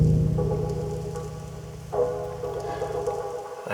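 Roland SH-101 synthesizer line running under three chords and a soft atmospheric pad during a live electronic set, a steady pulsing bass pattern at even volume with a brief brighter swell near the middle.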